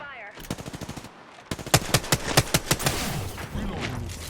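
Apex Legends gunfire: rapid automatic bursts of sharp, evenly spaced shots, first a quicker run, then after a short pause louder and more spaced reports, close and punchy, with no talk over them.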